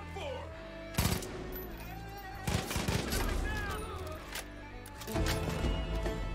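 Gunfire in the video game Far Cry 5: bursts of shots around 1, 2.5–3, and 5.2 seconds over constant game sound and music, with someone talking intermittently.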